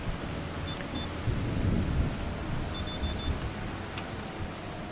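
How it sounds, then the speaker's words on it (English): Steady rain falls with deep rolling thunder in Farming Simulator 25, a dense continuous wash of rainfall with a low rumble swelling midway, no voices over it. "Oh, it's raining. We've got the rain."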